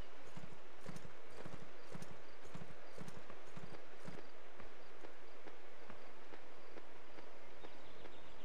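Horse hooves clip-clop in a steady, repeating rhythm in the Swordsman MMO video game, fairly quiet and close, with no one talking over it.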